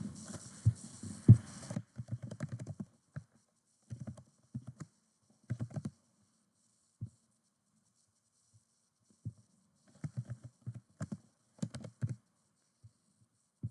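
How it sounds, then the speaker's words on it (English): Computer keyboard typing while filling in an online goat registration form, in short bursts of quick keystrokes separated by pauses, close and fairly quiet. "so we will type that in"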